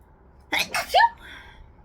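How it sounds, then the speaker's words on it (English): A single sharp sneeze, a quick intake followed by an explosive burst, close and clear against a quiet background. "Oh, got the sneezes."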